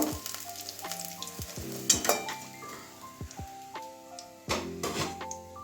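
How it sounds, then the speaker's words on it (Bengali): Tangra fish frying in hot oil in a pan make a loud, continuous sizzle. Utensil clinks and scrapes against the pan break through it several times, and no one talks. "বাকি মাছগুলো ওইভাবেই ভেজে নেব"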